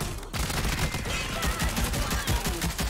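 Rapid, dense gunfire from a tactical shooter video game, loud and sustained bursts that run almost continuously with fusillade-like overlapping shots, no talk over it.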